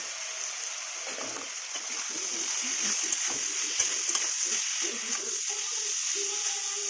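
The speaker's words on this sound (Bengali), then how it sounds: "আমি এটা আর একটু কষবো যাতে আমার তেলটা বার হয়ে যায়" Spice masala sautéing in oil in a pan, a steady soft sizzle with scattered small crackles and pops throughout, close and continuous with no voices.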